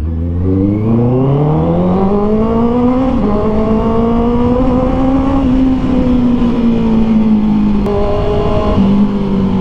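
A 2024 Honda CB650R E-Clutch motorcycle with an aftermarket exhaust revs hard and steadily, its deep throaty roar climbing and dipping in pitch, loud and close throughout with no talking.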